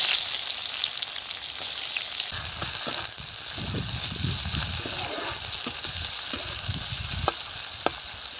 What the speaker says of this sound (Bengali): পেঁয়াজ ভাজা বসিয়ে দিয়েছি